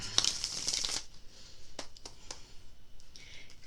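Tarot cards being shuffled, a quick run of papery riffles and flicks up close, then a few scattered soft taps and slides, fairly quiet.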